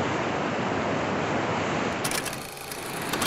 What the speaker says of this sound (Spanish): en el mar sintiendo las olas, dejándome abrazar por cada una de ellas